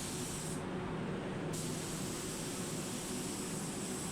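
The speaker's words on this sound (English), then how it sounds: "Keep spraying, keep checking what you're doing." A paint spray gun applying tinted clear candy paint gives a continuous, loud, even hiss throughout, close by and steady with no talking.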